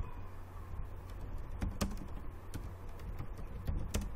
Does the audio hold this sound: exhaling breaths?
no